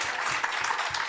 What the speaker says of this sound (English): So give Annalisa a round of applause.